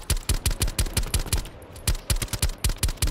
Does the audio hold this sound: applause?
no